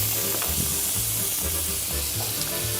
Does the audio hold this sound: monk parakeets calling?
no